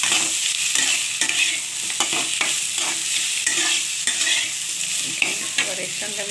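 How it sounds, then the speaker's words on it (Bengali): Spicy fish roe curry with okra and potato stirred in a frying pan, a steady sizzle running throughout with scraping spatula strokes at irregular intervals, close and fairly loud, no talking. "নেড়ে চেড়ে দেবো"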